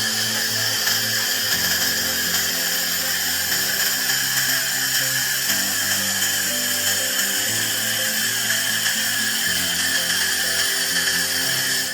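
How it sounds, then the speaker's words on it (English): A 400 W laser welder set to cleaning mode runs steadily over welded seams, giving a loud, continuous whining buzz with shifting low tones throughout and no voices. "Laser cleaning of welded seams with stray colors"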